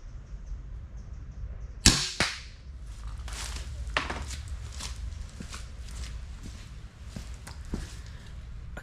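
An EK Archery Jag 1 Deluxe crossbow looses a bolt with one sharp, loud snap and a brief twang, followed by quieter rustling and small knocks nearby.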